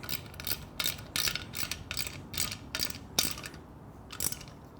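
A ratchet with a 10mm socket tightens a tail light mount, giving short bursts of rapid clicking repeated about nine times in a steady rhythm, close and fairly loud, with no talking.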